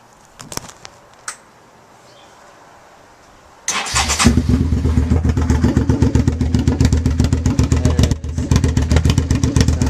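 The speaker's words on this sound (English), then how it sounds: "I just wanted to start it up for you and show you how it sounded" A 2000 Suzuki SV650 motorcycle with a Danmoto XG-1 slip-on exhaust is started after a few faint clicks, catching into a loud, steady, throbbing idle that carries on close by to the end.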